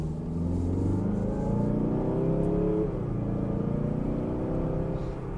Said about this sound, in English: the thing you'll notice on the road with this car, a little bit noisy on acceleration